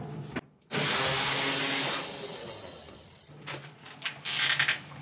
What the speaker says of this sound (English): I happen to have an electric driver for that function, and so I will use that.